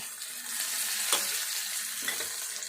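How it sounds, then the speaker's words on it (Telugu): Egg curry with turmeric and curry leaves fries in a pan with a constant close sizzle, broken by two distinct scraping stirs of a spoon. "ఇప్పుడు పసుపు వేసుకుందాం, కొంచెం కలుపుకుందాం. కరివేపాకు వేసుకుందాం"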